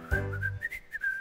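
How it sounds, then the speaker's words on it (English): A bright, clear whistled melody from a children's counting song, short rising and falling notes strung together over a brief soft musical backing. "whistling a happy melody."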